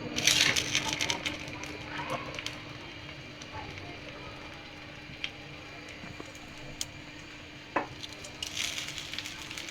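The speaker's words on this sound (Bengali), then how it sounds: "দিয়ে আমি উল্টে পাল্টে ভেজে নেব" Slices of bread dipped in a sugar and egg mixture frying in oil, a steady faint sizzle with occasional small clinks and taps of turning the pieces.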